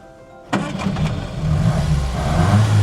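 A warm 1956 Standard Super 10 engine catches at once, with a sharp starter crank and then a close, steady idle that builds slightly in loudness.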